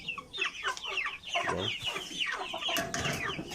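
Young stag roosters clucking close by in a coop, a steady run of short overlapping clucks and calls with no talk over them.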